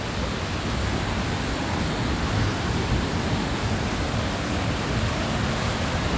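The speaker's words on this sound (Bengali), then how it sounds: "এটা আসলে অনেক বড় একটি ঝর্ণা।" The large Borhill waterfall near Dawki, close to the Bangladesh border, a loud unbroken roar of falling water filling the whole clip, dense and steady with no voices.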